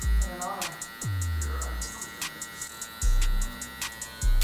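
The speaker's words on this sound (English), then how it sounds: "All right, so now I'm going with my clipper closed." A LoProFX limited edition hair clipper runs close to the head with its blade closed, giving an electric buzz that comes and goes in short passes with rhythmic ticking, while a person speaks between strokes.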